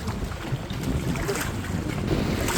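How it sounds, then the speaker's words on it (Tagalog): Steady, loud wind buffeting a microphone aboard a boat heading out on a choppy open sea with strong waves, a continuous roar with a low rumble and no voices. "Medyo malakas ang alon guys oh. At saka medyo mahangin."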